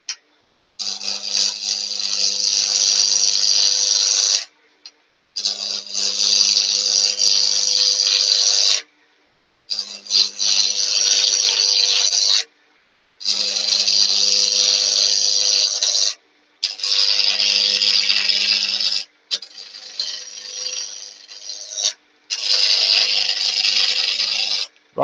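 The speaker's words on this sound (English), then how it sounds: "I'm using my roughing gouge wrong." A wood lathe turns an old bed post while a roughing gouge cuts it, giving loud scraping, rasping bursts of about three seconds, seven in a row, each split by brief quiet pauses.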